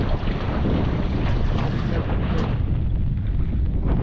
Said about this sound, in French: Et il y a du vent pourtant.